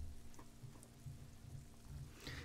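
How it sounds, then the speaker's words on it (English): Steady rain patters on window sills and dead houseplants in a residential courtyard in the video game Disco Elysium, a faint, continuous soft drizzle with low rumbling underneath and a few light drips. "Rain patters on the window sills and dead houseplants."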